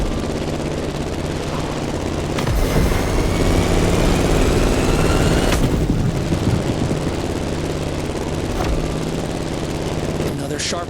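Airplane engine from The Crew Motorfest racing game, a steady droning propeller hum with low rumble throughout, swelling louder in the middle, while a voice talks over it.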